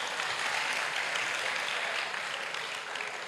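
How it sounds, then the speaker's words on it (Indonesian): A room full of people claps together at a regional government office visit in Badung, a dense, steady patter of applause that holds for a few seconds and then eases off slightly at the end. "Tepuk tangan dulu."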